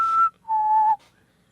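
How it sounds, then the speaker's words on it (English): A person whistles two clear, close notes: a short higher note, then a longer, lower held tone, followed by silence. "hey, don't do that whistle again or you die"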